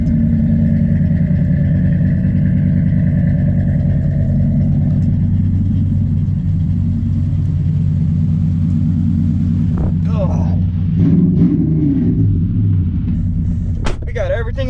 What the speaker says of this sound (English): Let's do a quick, start up here